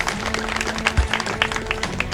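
Audience clapping opens a village program in Lakhnamai ahead of panchayat elections, with a dense patter of hand claps running steadily through the moment and a few sharper individual claps standing out.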